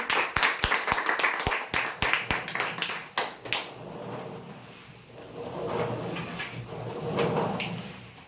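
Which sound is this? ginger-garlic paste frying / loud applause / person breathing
loud applause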